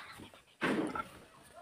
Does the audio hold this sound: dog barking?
yes